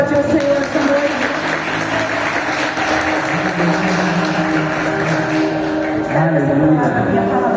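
A church congregation applauds during an evening worship service, a dense, steady wash of clapping that fills the whole stretch alongside voices and music.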